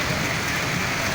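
Heavy rain pours down in a dense, steady hiss during a street flood on Yola road in Abuja, loud and close throughout the short stretch.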